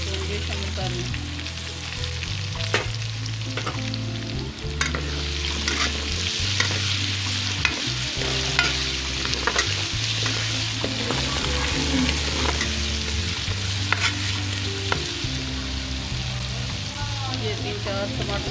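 Garlic-ginger paste sizzles with onions in a pan for chicken biryani as a spoon stirs busily, with frequent scraping and bubbling close up under steady background music.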